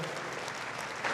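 Spectators at the finish of the 24 Hours of Le Mans endurance race applaud in a dense, continuous wash of clapping and cheering, fairly distant and steady throughout.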